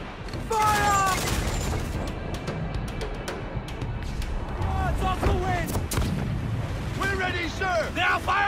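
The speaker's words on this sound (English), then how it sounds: "They are firing, sir!" Cannon fire aimed at a sailing ship in Assassin's Creed 4 Black Flag, with deep booms and rumbling blasts at sea mixed with wind noise and shouted voices throughout.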